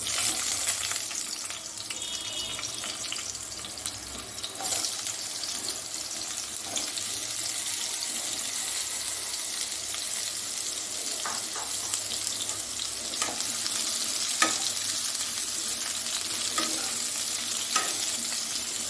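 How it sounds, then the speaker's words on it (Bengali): Sliced ridge gourd fries in oil left over from frying fish, giving a steady, close hiss and crackle that runs unbroken, with a few soft stirring scrapes and no talking. "মাছ ভাজার তেলের মধ্যে সবার প্রথম আমি ঝিঙ্গেটাকে ভেজে নেব।"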